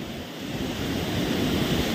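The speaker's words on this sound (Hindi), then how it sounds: "वाटरफॉल, अब पानी की आवाज़ सुन रहे हो" A steady, loud rush of water pours from a hidden waterfall beside the Darjeeling road, a continuous broadband roar filling the whole stretch with no voices over it.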